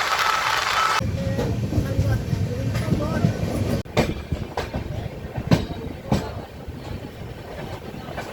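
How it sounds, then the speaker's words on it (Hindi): The Anga Superfast Express arriving at Kiul Junction at night, a loud, steady, close rumble of rolling railcars with rhythmic clickety-clack wheel beats and occasional sharp knocks. "फ्यूल जंक्शन पे अंग एक्सप्रेस का अराइवल होता हुआ अंग सुपरफास्ट का"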